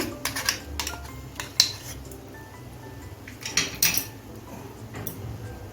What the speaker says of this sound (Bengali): এখন আমি আদা রসুন পেস্টটা দিয়ে দিচ্ছি